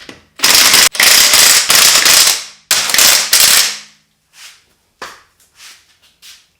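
Pneumatic impact gun driving lug nuts onto lightweight Konig Hypergram wheels on a Mercedes SL55 AMG, with several loud rattling bursts close by, each lasting about a second, then a few short taps and quieter clicks.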